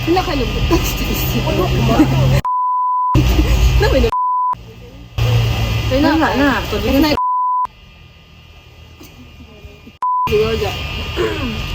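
A game-show countdown timer gives a series of steady, loud electronic beep tones that alternate with bursts of talking and background chatter.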